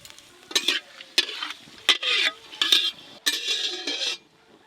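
Bay leaf, dry red chillies and whole garam masala dropped into hot oil: five or six loud, close bursts of crackling sizzle, each opening with a sharp utensil clank, separated by quieter pauses.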